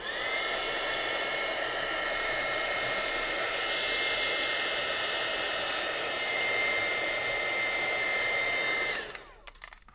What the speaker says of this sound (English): Now, the embossing gun does get very hot, so you want to be very, very cautious when you do that.